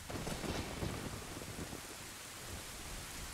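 Steady rain in The Legend of Zelda: Ocarina of Time hisses in a soft, even wash of noise with a low rumble, no voices present.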